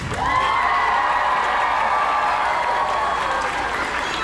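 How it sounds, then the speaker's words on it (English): An audience at the Medieval Times dinner and tournament in Dallas, Texas applauds and cheers steadily, a dense wash of clapping and voices that holds at full level throughout. "Another cheer for Brandon and Ultimo."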